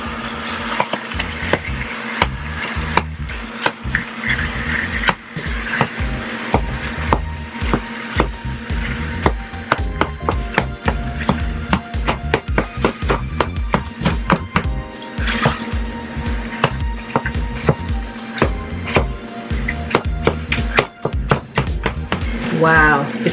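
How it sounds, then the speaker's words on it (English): Ground turkey being broken apart in a skillet with a chopper, rapid repeated sharp knocks and scrapes against the pan, loud and close over a faint sizzle, with a voice talking at times. "I'm going to begin to break down the ground turkey in the skillet and continue to"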